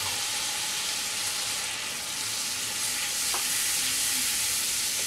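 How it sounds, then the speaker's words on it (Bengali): Cumin, coriander, Kashmiri chilli powder and turmeric with a splash of water sauté in a pan, a constant close sizzle and hiss broken by light stirring scrapes. "মশলাটা আমি কষিয়ে নেব"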